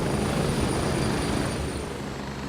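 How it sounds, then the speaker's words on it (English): A loud video-game helicopter rotor thrums steadily and close, a dense chopping roar filling the whole moment with no voices. "Helicopter too loud."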